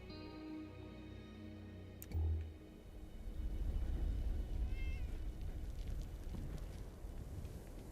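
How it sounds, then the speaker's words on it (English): A cat meows indoors, faint and somewhat distant, over a steady low rumbling background noise, with a brief thump partway through. "Cat's named Murgle."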